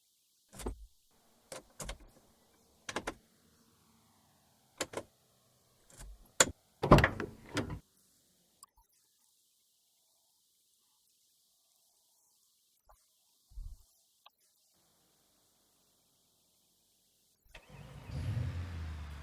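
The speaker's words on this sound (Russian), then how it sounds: "Ладно, Тень, давай, взламывай тачку и поехали" A car is broken into and started in the BeamNG.drive driving game. Scattered sharp clunks, clicks and door or latch sounds are separated by silent gaps, and an engine cranks and catches into a rumble at the end.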